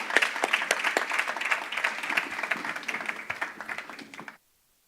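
Conference audience at a sustainable destinations summit gives panelists a warm round of applause: a dense, even clapping that holds steady, then cuts off abruptly near the end.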